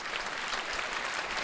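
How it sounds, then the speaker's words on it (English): Audience applause for the sponsors at a multiple sclerosis talk, a brief, dense burst of clapping from many hands, steady and without a break. "So let's give them a round of applause for supporting this event."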